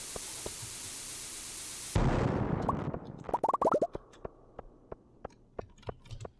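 Bombs going off in Stardew Valley: a hissing burst erupts and decays into a scatter of small popping, plinking debris sounds, then quieter clicks trail off.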